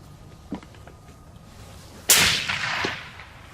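A Remington 700 rifle in .300 Win Mag fires a single loud, sharp shot on an outdoor range at a 200-yard target, with a decaying rumble afterward and faint background noise before it.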